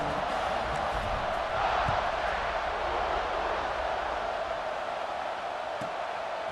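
Stadium crowd in EA Sports College Football 26 keeps up a steady, broad roar of cheering through a kickoff, loud and sustained with small swells, and no clear talk over it.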